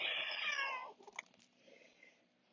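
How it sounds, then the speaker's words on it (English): A cat gives one drawn-out, falling meow lasting about a second, fairly close, then a few faint shuffling noises follow in near quiet. "Maybe to a little cat meow."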